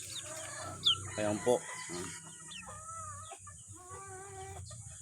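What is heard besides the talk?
male chick peeping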